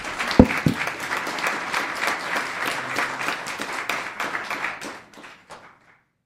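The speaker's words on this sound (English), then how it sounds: "Round of applause." Applause from a town council meeting audience in Los Gatos after a proclamation: a thick burst of clapping that runs steadily, then thins to a few last claps and fades into silence.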